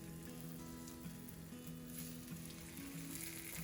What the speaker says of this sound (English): When your oil is heated for about 2 minutes, you can start putting your steaks in.